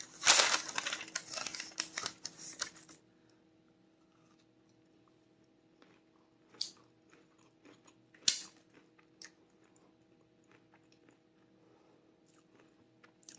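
A person chews a freshly made pecan log roll of divinity candy, a burst of close crunchy chewing at the start followed by quiet pauses and a few softer bites.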